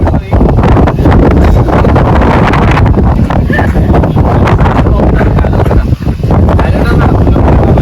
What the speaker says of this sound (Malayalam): ഇതുപോലെ കാറ്റുള്ളൊരു വ്യൂ പോയിന്റ് ഞാൻ വേറെ കണ്ടിട്ടില്ല.